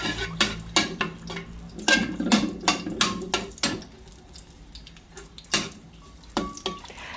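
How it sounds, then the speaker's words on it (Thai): Seasoned beaten eggs cooking in a pan of hot, bubbling oil, with soft sizzling broken by sharp clinks and scrapes of a utensil stirring against the pan at close range. "กระทะก็เริ่มเดือดแล้วค่ะ"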